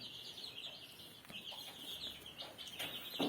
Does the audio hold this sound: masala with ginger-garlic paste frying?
no